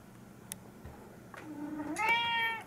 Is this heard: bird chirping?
no